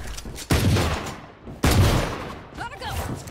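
Reaver-skin gunfire in Valorant cracks out in two sharp, loud bursts about a second apart, each trailing off quickly, with a voice speaking in the background.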